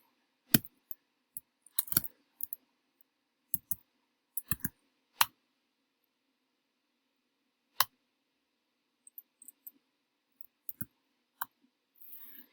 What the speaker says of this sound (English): if I type in a word and click enter or return